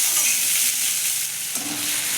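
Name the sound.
frying tomato and onion in a pan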